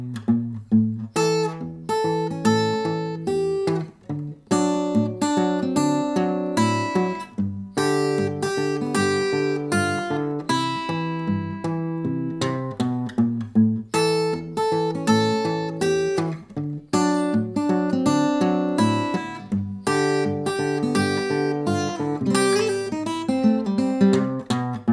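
Ragtime fingerstyle guitar with hammer-ons, pull-offs and slides, played alone and close, a steady, bouncy alternating bass under syncopated melody notes, continuous for the whole stretch.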